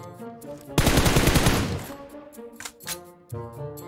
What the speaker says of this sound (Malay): Oh, dia main tembak kat atas tu pula dah.